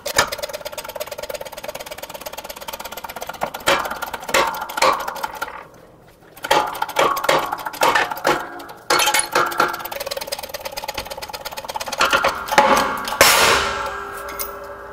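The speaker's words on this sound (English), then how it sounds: "Now I have this bushing set up in my hydraulic press here, where the press is going to press the bushing down into this cup." A hydraulic press pushes a worn upper control arm bushing out of a Chevrolet Express van's control arm into a cup, giving repeated close metallic clanks, creaks and pings that come in bursts, with a loud sharp crack near the end.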